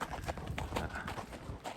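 Horse hooves clip-clopping along a mountain trail on a Colorado ride to St. Mary's Falls, a steady near rhythm of hoof strikes with some rustling and a hint of talk in the background.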